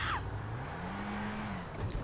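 A stolen front-wheel-drive car drives in GTA V Online, with a steady engine drone, a short tire squeal near the start and a continuous rolling hum throughout.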